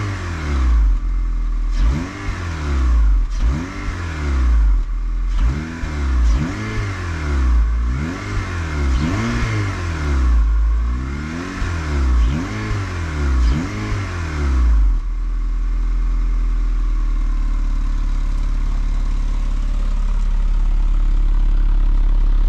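Honda Civic Si with its factory OEM exhaust, revved repeatedly in a series of sharp rising and falling bursts, then settling into a steady idle for the final stretch, close and loud with no talking.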